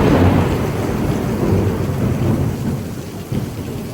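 A severe thunderstorm with heavy downpour and gusting winds of about 30 mph: dense, steady rain roars loudly alongside deep rolling thunder, with no voices.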